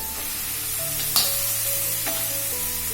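Soaked red puffed rice tipped into a pan of softened tomatoes and stirred, a steady close sizzle of frying with a brief scrape of the spoon partway through, no voices.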